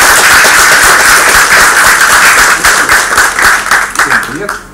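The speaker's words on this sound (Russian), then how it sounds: "я с огромным удовольствием под ваши бурные-бурные аплодисменты приглашаю к микрофону Алексея Рыбакова" Loud, dense applause from an audience at an IT talk fills the room as a speaker is welcomed to the microphone, steady clapping that thins slightly toward the end.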